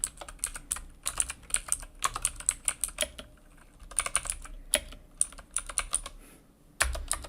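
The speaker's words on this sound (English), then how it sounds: "We're going to type in the date." Fast, steady typing on a computer keyboard, each keystroke a crisp, close click in quick irregular runs with brief pauses, ending in a heavier key press.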